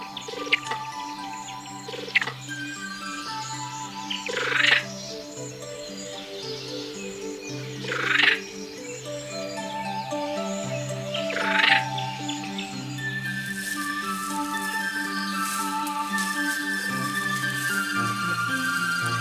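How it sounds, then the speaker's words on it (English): Indri lemurs make odd tonal calls and sharp clicking chirps that repeat in bursts over a steady layered background of calls, sounding birdlike and fairly close. "They communicate with one another through strange clicking noises that sound a bit like bird calls."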